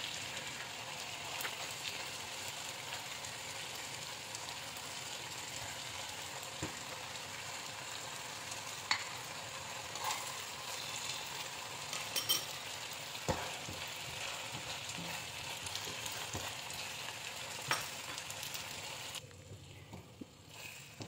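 Japanese udon with minced pork being stirred in a pan: a low, steady sizzle with scattered scrapes and taps of the utensil, fairly quiet and close, with no talk.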